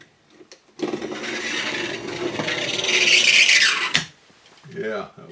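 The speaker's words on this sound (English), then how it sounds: "it should gouge or scrape that plastic, and maybe it won't wander on that line" A flat-pointed tool drags a scraping line into a plastic side window for a Piper Supercub Widebody, one continuous rasping stroke rising in intensity before stopping abruptly, followed by a short quieter scrape and a brief voice.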